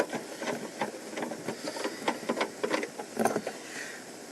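A small bolt is unscrewed from a car's tailgate reverse light housing, giving quiet, rapid ratcheting clicks in short bursts with brief pauses, close and fairly faint.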